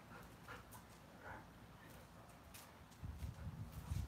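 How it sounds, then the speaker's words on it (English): Dogs pant and snuffle softly on a back porch, faint breathy panting with a few heavier bursts near the end, quiet and close, no talk. "I'm sure you will hear the dogs"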